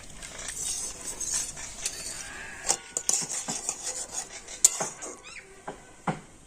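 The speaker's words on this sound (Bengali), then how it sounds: "তো আমি একবার এইভাবে নেড়ে নিচ্ছি কর্নফ্লাওয়ারটা তো তলায় বসে গিয়েছে" A spoon stirs a milk and cornflour mixture in a pan for orange barfi, scraping across the bottom with irregular close rasps and sharp metallic clinks against the sides.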